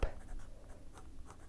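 A pen writing on paper while swatching Anderillium inks from the Lepidopteran series, heard as soft, close scratching strokes in short bursts, quiet and alone.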